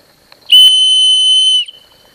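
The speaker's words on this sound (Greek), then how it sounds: "Η σφυρίχτρα λοιπόν που βρίσκεται ενσωματωμένη πάνω στις λαβές του ελβετικού σουγιά της Victorinox Classic παράγει έναν αρκετά δυνατό και καθαρό ήχο" A built-in survival whistle on the handle of a Victorinox Classic Swiss army knife gives one loud, clear, steady blast of about a second, alone and close.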